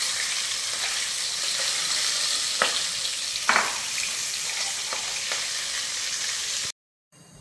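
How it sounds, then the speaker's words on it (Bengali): Rohu fish fry in oil with a continuous close sizzle and a few sharp spatters and clinks, before the sound cuts off abruptly near the end. "মাছ আমাদের এক পিস ভালো হয়ে ভাজা হয়ে গেছে, আর একটি মাছ আমাদের ভাজা হয়ে গিয়েছে।"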